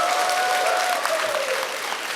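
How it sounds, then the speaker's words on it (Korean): An audience at a public citizens' forum in Siheung applauding, a dense steady clapping throughout with a faint tonal hum beneath. "어머님도 박수 막 치시고"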